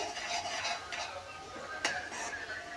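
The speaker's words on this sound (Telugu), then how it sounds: "ఇప్పుడు మిక్సింగ్ చేస్తుంది." Pasta being stirred in a pot during home cooking, with soft continuous scraping and clinking of a utensil against the pan and one brief sharper clink, close and moderately quiet.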